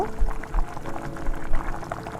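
Water splashes as it is poured into a cooking pot of meat and potato curry, a close, bubbling gurgle lasting a couple of seconds.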